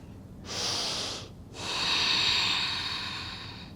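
Slow, deep breaths during a yoga hip stretch, a breathy inhale followed by a long airy exhale, close and fairly soft with no talking.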